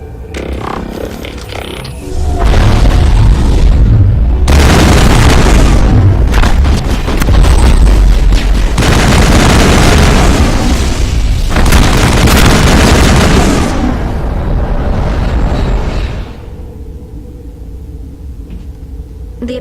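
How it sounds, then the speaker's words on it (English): Gunfire and explosions in the Mass Effect video game, with heavy booms and rumbling blasts in loud bursts that come in waves over several seconds, then ease back to a quieter background. "Weapons free!"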